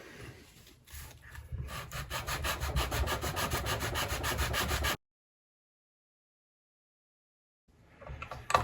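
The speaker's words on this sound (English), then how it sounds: "Our sanding block." A sanding block rubs over a wooden guitar neck, smoothing proud areas, in steady rasping strokes for about five seconds, then silence before the scraping briefly resumes.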